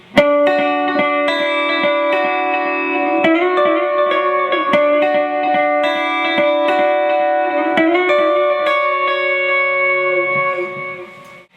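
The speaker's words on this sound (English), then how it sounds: "So that part goes with a dotted 8th note delay" Electric guitar part, played with a dotted eighth note delay: a steady stream of ringing, repeating notes that trail into one another, loud and continuous with echoing tails.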